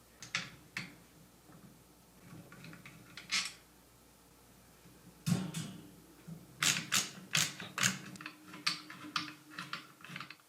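Bolts are worked out of the plastic front housing of a Honeywell HV-180 floor fan, giving faint, close clicks and ticks that come sparsely at first and then in a denser run of sharp clatters, with no talk.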